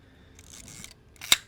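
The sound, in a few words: Zenit B M42 film SLR camera shutter firing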